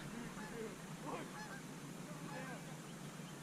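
Geese honk repeatedly from a late-season flock flying in during a hunt, the calls faint and somewhat distant over a steady outdoor background hiss.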